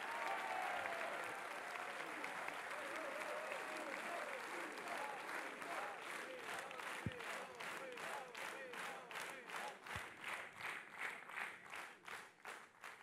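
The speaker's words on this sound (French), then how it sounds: "Merci de faire un tonnerre d'applaudissements pour Monsieur Bruno Retailleau." A packed political rally crowd in Vendée breaks into sustained, dense applause welcoming Bruno Retailleau, loud and continuous, then settling into rhythmic, pulsing unison clapping toward the end.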